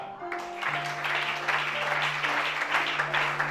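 An audience applauding for Shana at a gathering, steady sustained clapping under a held musical tone and low drone throughout.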